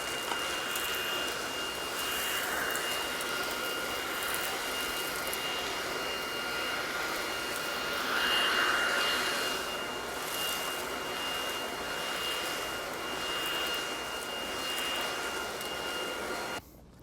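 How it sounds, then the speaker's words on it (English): A Powerffy cordless vacuum cleaner cleans up a messy floor area with a steady, even whirring hiss that runs continuously and then cuts off abruptly at the end, with no talking. "So I'm gonna go ahead and vacuum this area up out here."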